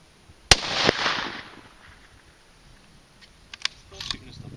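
Savage Axis .223 rifle firing at a 1000-yard steel target: one sharp, loud crack near the start with a second report soon after, trailing off into quiet, then a few faint clicks and small knocks.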